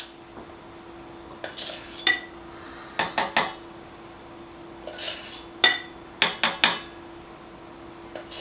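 Clinks and knocks of a pan and utensils while milk and flour go in for a cooked frosting, with sharp metallic taps in small clusters, some close together, over a faint steady hum.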